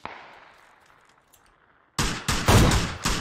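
Gunshots in PUBG: after a quiet fading tail, a loud close volley of several sharp shots rings out in quick succession.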